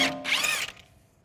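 Power tool, likely an impact wrench with a 36 mm 12-point socket, spins off the front CV axle nut on a 2004-2010 BMW X3. One loud whirring burst of about 0.7 seconds, close up, then quick fade.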